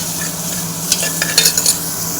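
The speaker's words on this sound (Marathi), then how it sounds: "फ्राय करूया" Finely chopped tomato stirred and frying in a hot pan at home, a steady close sizzle with a few scraping stir strokes, no talking.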